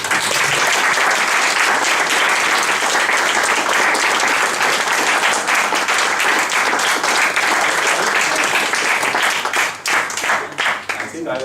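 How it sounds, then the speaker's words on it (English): A crowd applauds loudly and continuously, dense clapping that thins into a few scattered claps at the end. "And if you could give them a nice applause"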